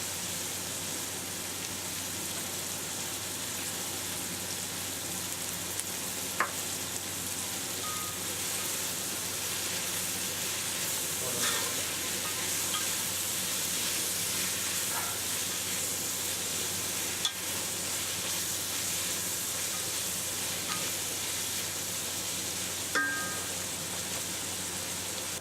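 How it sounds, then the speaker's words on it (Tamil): Onions sautéing with salt in a pan for egg curry give a steady, soft sizzle that runs unbroken throughout, with a few faint clicks of stirring and no voices. "இப்போ பார்த்தீங்கன்னா வெங்காயம் நல்லா வதங்கிடுச்சு"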